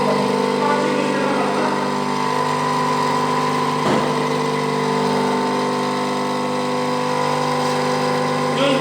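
A bench grinder runs with its grinding stone taking chips off metal, a steady loud mechanical whir holding throughout with one brief sharp disturbance midway and no speech.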